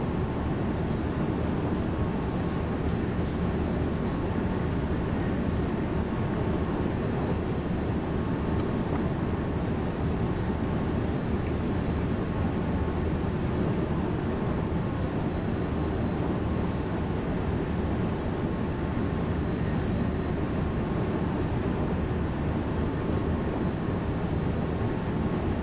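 A Br 425 electric train in Train Sim World 2, running on the S1 line from Duisburg to Bochum at over 100: a steady, continuous rolling hum of motors and wheels on rail, with no talking.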